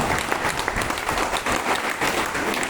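An audience claps loudly together in unison, a dense, steady burst of applause that stays close and continuous for the whole stretch, with no voices over it.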